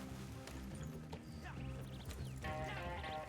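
Hooves clip-clop and a horse whinnies in the video game Red Dead Online, set against a busy, continuous game soundscape with music and effects.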